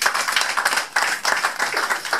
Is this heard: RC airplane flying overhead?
no